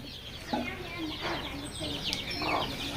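Layer and desi chicken chicks on a farm in Muktagacha, Mymensingh, give scattered high peeps and soft clucks over a steady background hiss, with faint voices nearby.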